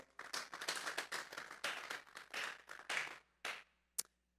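A church congregation claps hands together during a Sunday service, a dense patter of many hands in bursts that fade and stop with a final lone clap.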